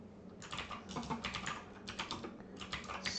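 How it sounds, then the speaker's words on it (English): Fingers type rapidly on a computer keyboard in bursts of clicking keystrokes, close and fairly clear, separated by brief pauses. "you guys don't hear the keyboard slamming so hard every time"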